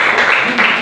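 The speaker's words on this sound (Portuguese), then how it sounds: "Dê uma salva de palmas" Applause from a church congregation at the close of a prayer during a worship service: a dense, steady wash of clapping lasting under a second, loud and close.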